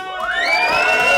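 Wrestling event crowd cheering in encouragement, a loud swell of shouting voices with high, rising cries building together over a short burst.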